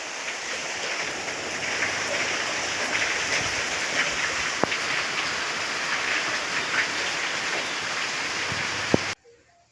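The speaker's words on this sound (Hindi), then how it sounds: "बहुत ही ज़्यादा बारिश हो रही है, बहुत ज़्यादा ठंड हो रही है।" Heavy monsoon rain pouring steadily outdoors, a dense continuous hiss with a few sharp drips, constant in level until it cuts off abruptly near the end.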